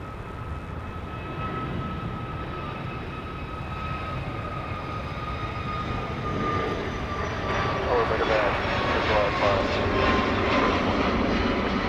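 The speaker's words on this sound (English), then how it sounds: "So here we go, the short flight to Austin, the state capital of Texas." Jet airliner at Dallas Love Field on a short flight to Austin, a broad steady engine roar that swells gradually louder toward the end, heard from a distance with a voice talking over it.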